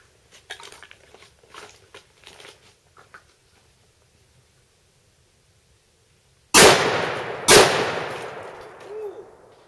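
Two loud, close rifle shots from a Ruger Mini 14 firing .223 rounds into bricks, each a sharp crack with a ringing decay, coming after a stretch of faint quiet murmuring.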